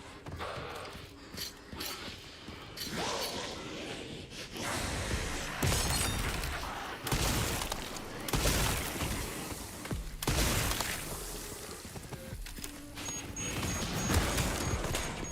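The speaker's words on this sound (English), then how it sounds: "I just like hit him with the explosive barrel. Not the explosion of it, just threw at him." A thrown explosive barrel strikes an enemy in Resident Evil 9 Requiem, giving a loud crashing, shattering impact among dense, chaotic game noise of hits and clatter that continues throughout.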